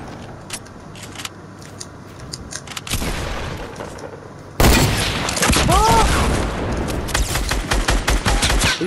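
Fortnite Battle Royale gunfire bursts out loudly partway through, shots crackling in rapid clusters amid game noise, with players talking over it during a duos match.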